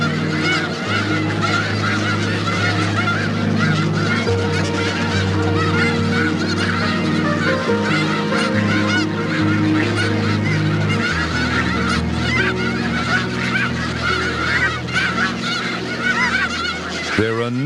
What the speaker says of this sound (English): They're a noisy bunch, but their cries are actually a welcome sound to farmers.